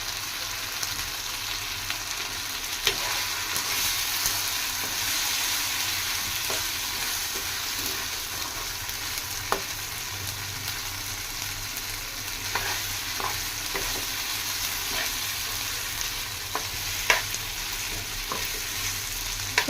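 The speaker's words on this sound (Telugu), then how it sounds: "చూడండి ఏ విధంగా ఫ్రై వస్తుందో" Spicy village-style chicken fries in a pan with a steady, close sizzle, broken by occasional sharp clicks and scrapes of stirring, with no voices.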